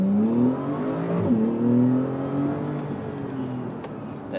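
A Porsche 911 Carrera 4 GTS with a turbocharged engine revs up steadily, its pitch climbing, dipping briefly as it shifts, then rising again, loud and close from inside the car.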